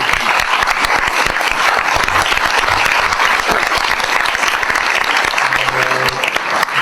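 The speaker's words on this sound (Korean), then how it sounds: "박수 한번 보내드릴까요?" Sustained, loud audience applause fills a ceremony hall at a human rights group's tenth anniversary thank-you evening, steady dense clapping throughout with faint voices beneath.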